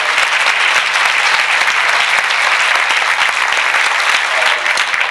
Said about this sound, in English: I think that is deserving of a round of applause for everyone that was there.